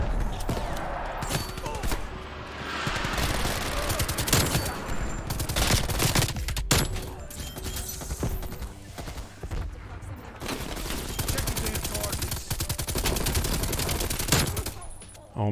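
An RPD machine gun fires in Call of Duty Cold War, long sustained bursts of rapid gunfire with heavy thumps, briefly pausing before resuming, while a voice talks intermittently underneath.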